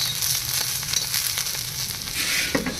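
Dosas frying in a pan outdoors in the cool open air, a steady close sizzle with small crackles running throughout, no talking.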